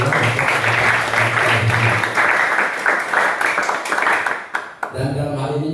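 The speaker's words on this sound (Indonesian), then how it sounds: "Berikan tepuk tangan yang mulia" Audience applause at a pickleball outreach event at a university in Karawang, steady dense clapping with a low musical hum underneath, breaking off briefly before sound resumes.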